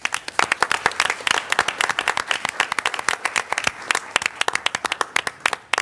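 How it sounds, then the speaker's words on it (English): A round of applause at a city council meeting, many hands clapping steadily and fairly close throughout, with no talk over it. "So let's give them all a round of applause"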